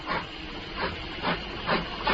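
A steam engine hisses in long, loud, broadband bursts that swell and ease roughly every half second, with a steady chuffing pulse underneath and no voices.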